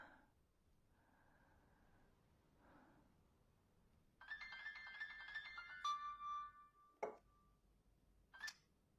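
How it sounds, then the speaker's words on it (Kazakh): A telephone rings indoors with a short electronic ringtone melody of bright, repeating tones for about two seconds, then a single held beep and a few faint clicks, with no talking. "Әкем не деген көп телефон соққан."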